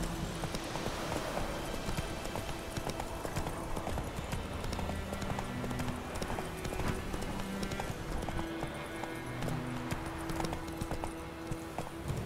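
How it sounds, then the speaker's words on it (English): Horse hooves trotting at a steady clip-clop pace in The Witcher 3 video game, a continuous, even rhythm under game music with a brief spoken line. "Giddy up. Not so fast, Roach."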